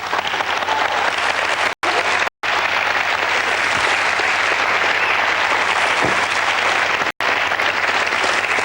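Studio audience applauding on a 1994 French TV show, a dense, steady wall of clapping that continues loud throughout, broken only by brief cuts.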